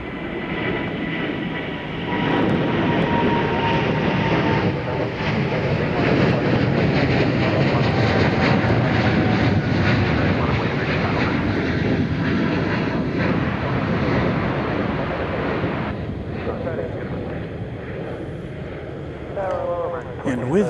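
An airliner in Yam Dreaming livery at DFW Airport makes a loud, steady jet engine roar that holds for about twenty seconds before easing slightly near the end.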